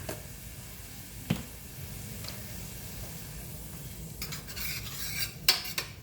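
Garlic cooks in a pan, giving a quiet, low sizzle broken by a few utensil clinks and scrapes as it is stirred, heard close and fairly faint.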